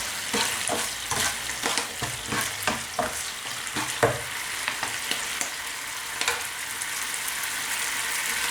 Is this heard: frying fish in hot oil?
yes